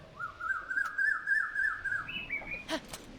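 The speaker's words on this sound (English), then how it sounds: "haven't heard that bird before" A bird in Zelda: Breath of the Wild sings a clear, warbling whistled phrase that rises in pitch near the end, followed by a couple of short chirps, over faint background ambience.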